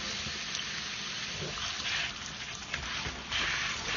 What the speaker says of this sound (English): you just rinse it off in cold water.